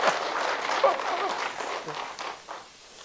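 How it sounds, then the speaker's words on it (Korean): An audience claps briefly at a health lecture, a short burst of applause that thins out and fades within a few seconds, with faint voices mixed in. "좋아요, 박수 치세요."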